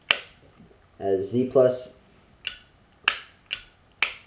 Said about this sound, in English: you will hear that trademark sound, well, not trademark, but you know what I mean, the famous clink